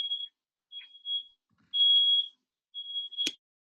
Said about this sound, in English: Sorry, the alarm is kind of loud.